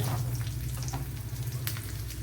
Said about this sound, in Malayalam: ഇനി ഇതിലേക്ക് രണ്ട് വറ്റൽമുളക് ഇട്ട് അപ്പോഴേ കടുവ് നേരത്തെ പൊട്ടിയിട്ടുണ്ടായിരുന്നു